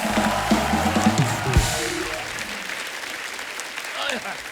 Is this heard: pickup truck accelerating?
no